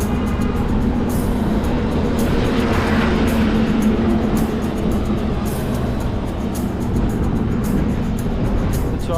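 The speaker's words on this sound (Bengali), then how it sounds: "মারাত্মক স্পিডে গাড়ি চলছে এখানে।" Fast vehicles rush along the GT Road highway, making a loud, continuous roar and broadband rumble heard from close by with no letup and no talking.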